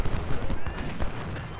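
Artillery and cannon fire in the Civil War strategy game Ultimate General: Civil War, a dense run of booming shots and crackling gunfire, loud and continuous throughout with no clear gaps.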